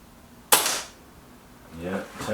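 A Kral Puncher Maxi or Reximex Accura air rifle fires a single sharp, close crack on a quiet outdoor range, followed by a voice starting to speak.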